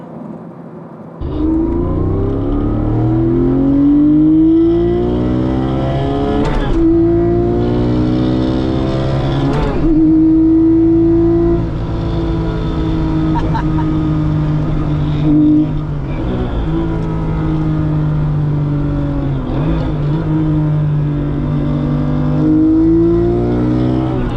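Porsche 964 fitted with a GT3 RS engine accelerating hard, its flat-six rising in pitch through the gears in long sustained pulls with brief dips at each shift, loud and heard from inside the car.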